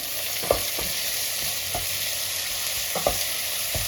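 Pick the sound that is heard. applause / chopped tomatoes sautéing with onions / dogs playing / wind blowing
chopped tomatoes sautéing with onions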